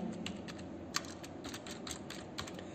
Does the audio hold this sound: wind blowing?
no